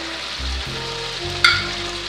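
Paneer curry being stirred in a frying pan, a close sizzle with low scraping and thudding strokes of a spatula, ending in a sharp metallic clink.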